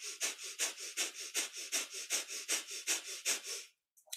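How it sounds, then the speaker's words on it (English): Rapid, rhythmic breath-of-fire breathing through the nose during kundalini yoga: about fourteen sharp, evenly spaced pants in quick succession, close and fairly soft, ending abruptly in silence. "breath of fire, our panting breath through the nose"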